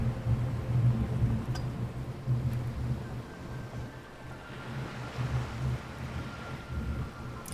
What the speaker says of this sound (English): Well, that's some thunder.